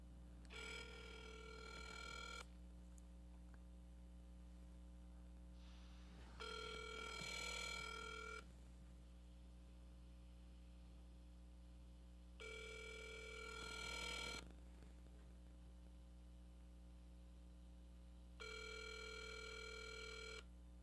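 An outgoing telephone call rings unanswered, with four long electronic ringback tones repeating at even intervals over a steady low hum and silence between rings.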